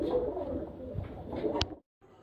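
Four pigeons cooing nearby in soft low repeated coos, with a brief rustle or flutter before the sound cuts out.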